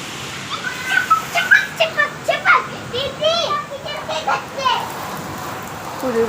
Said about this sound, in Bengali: এখন বৃষ্টি আজকে বৃষ্টি হচ্ছে ভালোই হয়েছে